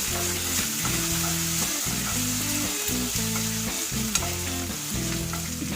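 Crushed ginger sizzles in hot oil in a pan while being stirred, with a steady fry hiss and repeated scraping strokes of the spoon, close and continuous with no voices.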